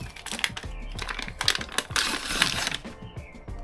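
Adhesive backing crackles and tears as it is peeled off Dodo Thermo Liner insulation in a camper van, a close, dense run of crinkly snaps and ripping bursts.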